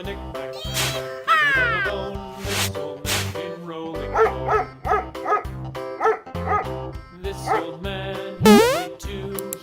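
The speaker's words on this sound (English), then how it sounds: "Dog." A toy-like dog barking sequence mixed with music, several short yips and bow-wows in bursts, loud and close, with tonal squeaks and cat-like meows interleaved.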